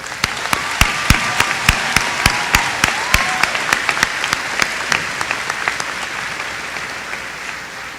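Audience applause fills a high school graduation ceremony, with a handful of sharp, louder claps standing out early on before the clapping gradually thins and softens.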